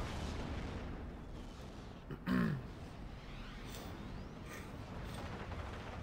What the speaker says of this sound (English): Got all the artillery firing back there